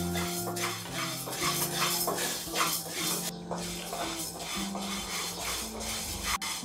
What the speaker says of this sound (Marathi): आता साबुदाणा जो आहे तो आपण थोडासा असा भाजून घेणार आहोत